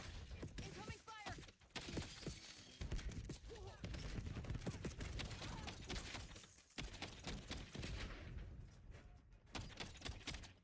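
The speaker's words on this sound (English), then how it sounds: "Incoming fire." Incoming gunfire in a Call of Duty match comes as dense, rapid bursts of shots and cracks, loud and continuous, with brief gaps between volleys.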